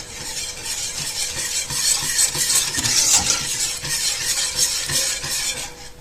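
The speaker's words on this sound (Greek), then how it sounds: "Ανακατεύουμε." Steady stirring of milk into a béchamel mixture for a Greek cheese pie, a whisk or spoon scraping and swishing rhythmically against the pot, close and continuous without talk.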